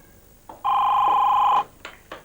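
A telephone on a call gives a single steady electronic ring tone lasting about a second, clear and close against a quiet room, followed by faint clicks.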